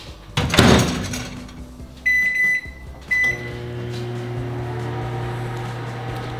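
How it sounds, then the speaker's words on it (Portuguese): A microwave oven heating a cookie topped with marshmallow: a door clunk, a few bright electronic beeps from the keypad, then the oven starts up with a steady low hum that continues to the end. "vamos botar no micro-ondas"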